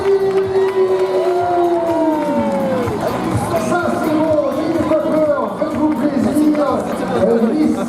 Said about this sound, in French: On peut les applaudir s'il vous plaît, l'ovation pour ces Miss Châteauroux.